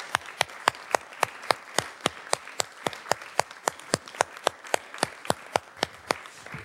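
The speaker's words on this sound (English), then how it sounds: "one round of applause I would like to ask you" Slow, evenly spaced single hand claps, sharp and fairly faint, repeating steadily about three times a second at a literary festival event, with no talk.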